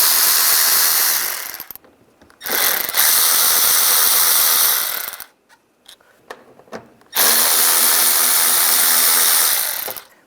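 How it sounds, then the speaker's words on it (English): A power driver with a T20 socket spins screws out of a 1999-2005 Volkswagen Jetta bumper and air deflector, three loud close whirring runs separated by quiet gaps and soft clicks. "Take these screws out."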